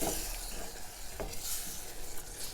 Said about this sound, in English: Mix the roux in the tomato.